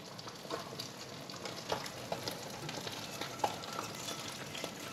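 Crappie fillets fry in butter in a pan, a steady faint sizzle with small crackles and pops scattered throughout, heard close but quiet and with no voices.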